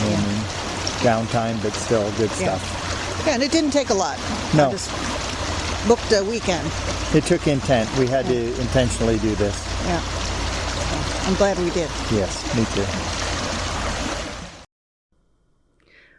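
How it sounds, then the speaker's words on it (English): The Watauga River flows in a steady, rushing wash beneath two people talking in a relaxed conversation. The sound stops abruptly near the end. "That was the Watauga River."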